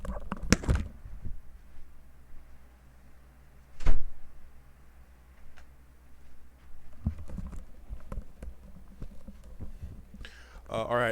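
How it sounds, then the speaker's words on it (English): A door being closed indoors: a few knocks and a solid thud midway, amid footsteps and handling noises, with a voice talking near the start and end. "Let me go close my door real quick."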